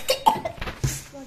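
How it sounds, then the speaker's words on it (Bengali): Several harsh coughs from a person in a kitchen while cutting lemon for a chicken bhorta, in quick irregular bursts over about a second, close and fairly loud. "আমি অনেক কাশি দিচ্ছি"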